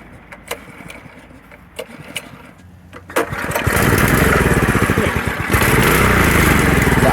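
An 8 HP scooter's small single-cylinder engine sits quiet through a few light knocks, then catches and runs loud and steady at a high idle, close by, with a brief surge near the end.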